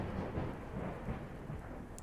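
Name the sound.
thunder during a rainstorm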